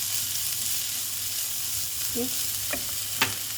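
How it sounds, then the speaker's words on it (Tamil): Onion and curry leaves sautéing in a pan for an omelette, a steady soft sizzle running throughout with a few faint scrapes of a spatula near the end. "கொஞ்ச நேரம் வதக்கிட்டு அதுக்கு ஆஃப் பண்ணிடலாம்."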